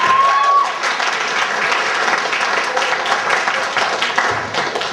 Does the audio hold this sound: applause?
yes